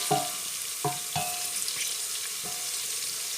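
Onions softening in a hot pan, a gentle even sizzle with a few distinct clinks of a utensil against the pan near the start and one more later, close by and without speech.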